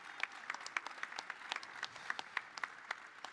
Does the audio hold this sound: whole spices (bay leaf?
no